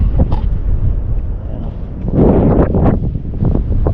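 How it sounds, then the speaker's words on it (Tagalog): Gusts of strong wind buffet the microphone in rough, uneven bursts while fishing, loudest midway, with faint water or rustling behind. "may kalakasan na yung hangin"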